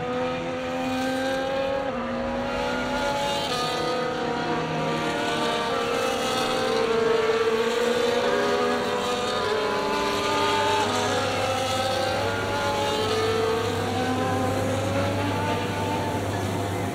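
F1 cars forming up on the grid at a wet Monza in the F1 24 game make a layered drone of engines at varying pitches, some rising and falling, with a deeper idle joining later, steady and continuous.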